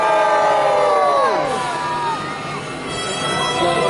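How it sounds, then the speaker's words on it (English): A crowd cheers and shouts at a castle jousting show at Dover Castle, a loud sustained roar of many voices with children's high yells, rising then easing slightly before swelling again. "One more cheer, folks,"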